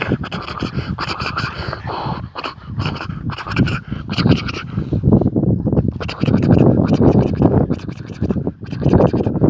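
A Malinois dog pants rapidly and close by, with bursts of scratching and occasional soft whimpers mixed in, continuous over the whole stretch.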